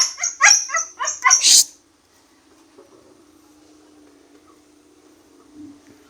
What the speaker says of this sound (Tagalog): Maingay talaga yung aso ko.